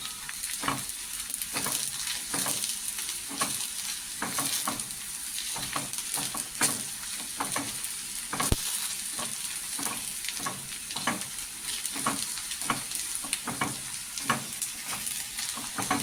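Coriander seeds, a piece of cinnamon and three peppercorns dry-roasting in a pan for a Maharashtrian whole masoor curry, with steady close crackling and repeated sharp scraping strokes of a stirring spoon, no talking.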